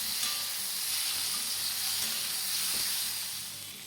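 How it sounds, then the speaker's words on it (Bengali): Potatoes and chopped tomatoes fry together in a hot wok for a Katla fish gravy, giving a steady, close, loud sizzle with spitting and stirring throughout, fading slightly at the end. "এবার আলুর সাথেই আমি যে কেটে রাখা টমেটো সেগুলোকে দিয়ে দিচ্ছি।"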